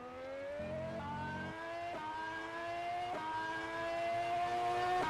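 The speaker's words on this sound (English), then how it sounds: "we've got a bit of a show driving by one of the Super Venturi cars" A Super Venturi race car in a sim racing game drives by, its engine whining high and rising through several upshifts, each gear change dropping the pitch before it climbs again, steady and fairly loud.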